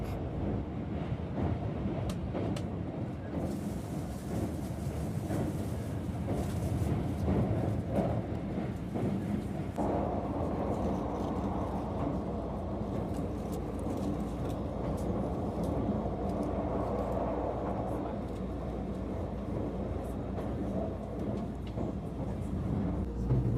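A Keisei Skyliner express train runs at speed, heard from inside as a steady low rumble and hum of wheels and motors, with a brief change in tone partway through.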